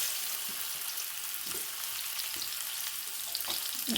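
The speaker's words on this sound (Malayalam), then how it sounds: "നെയ്യിലേക്ക് മുറിച്ച് വെച്ച് പഴം ഇട്ട് കൊടുക്കണം" Sliced banana frying in ghee, a steady, dense sizzle that holds evenly throughout with faint stirring taps underneath.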